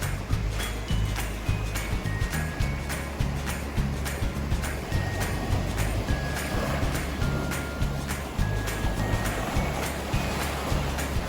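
Surf breaking steadily on Cola beach, a black-sand beach in South Goa, a dense continuous wash with rhythmic surges and no talk.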